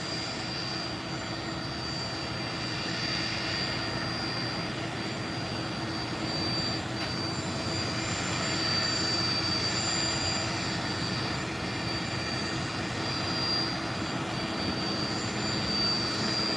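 Small propeller aircraft taxiing out toward the taxiway on an airport ramp, its engine a steady, distant drone that holds level throughout with no talking.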